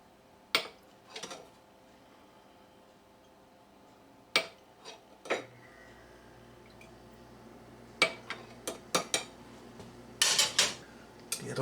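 Ladle and glass jar clinking while sauerkraut is topped off for refrigerator storage: sharp, close clicks and taps scattered across the clip, with a faster cluster of knocks near the end over a quiet room hum.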